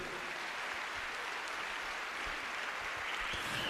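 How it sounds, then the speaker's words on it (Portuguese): A church congregation applauds during a Catholic priest's sermon, a steady wash of clapping that holds at an even, moderate level from start to finish with no voices rising above it. "Quem pode aplaudir forte a Jesus?"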